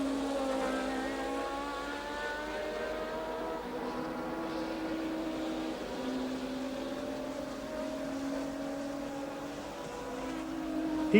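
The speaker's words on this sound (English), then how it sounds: "somehow Keke Rosberg's Cosworth Williams had included itself in the party" A 1982 Formula 1 race, with Cosworth-powered Williams cars among the field: engines drone and whine at a distance, their pitch rising and falling across overlapping cars in a steady, faint stream without voices.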